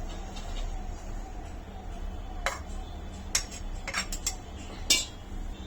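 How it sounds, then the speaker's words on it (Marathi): Warm semolina sanja filling scooped from a kadhai onto a plate, several sharp metallic scrapes and clinks of a spoon against the pan, close and quiet between strokes. "आता कढईतला अर्धा सांजा आपण ताटामध्ये काढून घेऊया."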